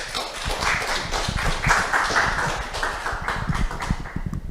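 An audience gives a welcoming round of applause for a professor taking the stage at a humanities lecture event, steady dense clapping throughout, fairly close and even in level.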